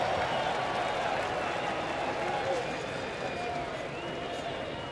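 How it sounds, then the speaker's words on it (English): Crowd applause from the stands at a baseball game between Chicago and Kansas City, a broad, faint, steady wash of clapping and crowd noise lasting several seconds, with a commentator's voice faintly underneath. "That applause was not from the heart."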